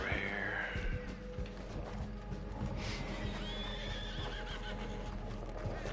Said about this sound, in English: Let me get my horse over here.